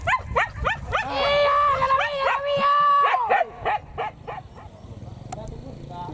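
Wild boar hunting dogs bark and yelp repeatedly in a busy cluster, with people talking over them; one drawn-out howl-like call rises through the middle.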